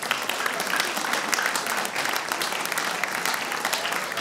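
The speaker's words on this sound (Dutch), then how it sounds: "Ik zou zeggen applaus voor Jan Broekhuizen" Steady, dense applause from an audience at a nut-shooting championship final, greeting a finalist; a continuous wash of many hands clapping at even loudness with no talk over it.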